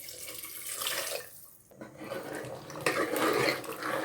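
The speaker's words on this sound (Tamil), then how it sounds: "கிரேவிக்கு தேவையான தண்ணீர் விடணும்." Water poured from a vessel into chickpea gravy in a pressure cooker, a steady splashing stream that swells and continues for several seconds.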